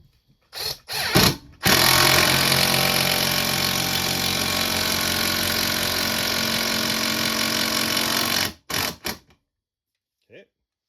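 A Hercules 12-volt cordless impact driver drives a screw in a loud, steady whirring burst lasting several seconds, with a few short trigger pulls before and after, close to the microphone, followed by quiet.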